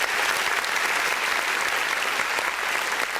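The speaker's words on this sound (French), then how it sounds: "On les applaudit très fort." An audience at the Pool Malebo Music Awards bursts into dense, sustained applause, a loud continuous wash of many hands clapping with no break.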